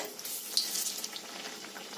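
Mango malpua batter frying in hot oil, a bright close sizzle with crackling bubbles that fades slightly, no voices.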